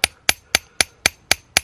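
Soft annealed copper is hammered into a dart point with seven sharp, evenly spaced metallic blows in steady rhythm, close and loud with nothing else audible.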